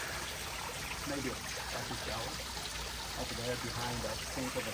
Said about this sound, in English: And then we've got the waterfall coming in.